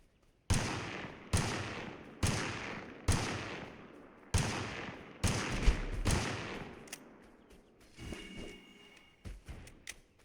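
Gunshots crack overhead in a shooter video game, about a dozen sharp reports at roughly one-second intervals, each ringing and decaying, fairly loud and close with no talking.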